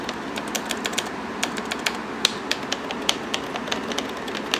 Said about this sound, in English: Here's your keyboard.